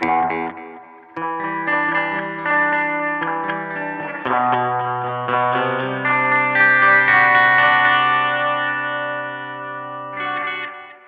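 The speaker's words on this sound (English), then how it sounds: "Second one's a second delay head with reverb." Held chords pass through a BOSS RE-20 Space Echo on its second delay head with reverb, ringing loudly and continuously for several seconds, each new note layering over repeating echoes before a brief final restrike.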